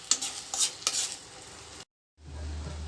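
Onion and curry leaf paste fries in oil over a low flame while a spoon stirs it, giving a soft steady sizzle with a few scraping strokes early on, a brief drop to silence, then a low rumbling hiss.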